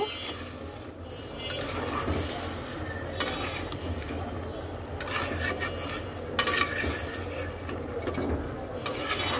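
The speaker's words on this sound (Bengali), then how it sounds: "তো খুব সুন্দর করে নেড়ে দেব" Egg curry with cumin powder being stirred in a pan, a steady scraping and clinking of a spoon against metal with faint sizzling underneath, continuous throughout with a few sharper clatters.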